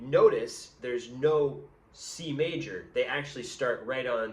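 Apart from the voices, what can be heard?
None of the usual background noises is heard.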